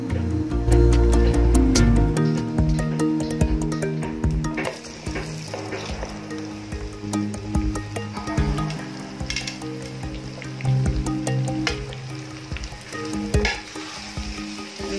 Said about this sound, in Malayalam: നന്നായി സോഫ്റ്റ് ആയി വരുന്ന വരെ നമുക്കൊന്ന് ഇളക്കി കൊടുക്കാം.